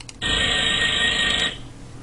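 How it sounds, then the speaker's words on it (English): A classic alarm-clock tone rings loud and shrill in one steady burst of about a second and a quarter, then cuts off, leaving quiet room noise. "or a classic clock,"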